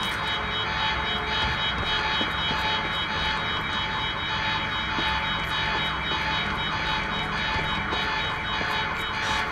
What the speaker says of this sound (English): The alarm must have locked everything down.